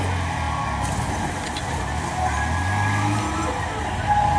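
A go-kart engine drones steadily through a race, a constant low mechanical hum that swells slightly partway through, with no talking over it.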